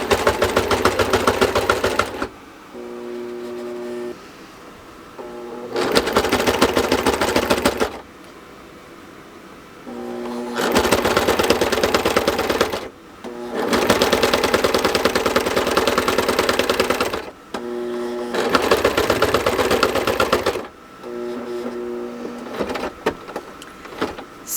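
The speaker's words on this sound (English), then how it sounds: "I'm going to sew until about 1/4 of an inch from the end." A sewing machine stitches binding onto a baby quilt in repeated bursts of fast mechanical whirring and clatter, each a few seconds long, separated by brief pauses with a lower hum.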